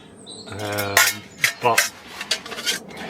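Metal camping pots and lids clank and rattle up close, a few sharp knocks and scrapes as they are moved about, with a voice speaking briefly over them.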